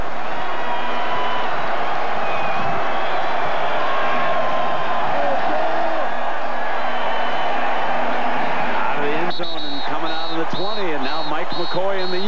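Football stadium crowd in Fort Collins at a Utah versus CSU game gives a broad, steady roar with cheering, while an announcer talks over it throughout.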